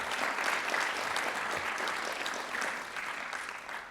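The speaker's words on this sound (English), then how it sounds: "A round of applause for Art." A crowd at a university creative writing reading applauds a man in the audience, sustained dense clapping from many people that fades slightly toward the end.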